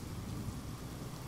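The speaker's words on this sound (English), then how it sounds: "it's raining heavy tonight" Heavy rain pours down steadily during a night thunderstorm, a dense, constant hiss and patter with no break or variation across the short stretch.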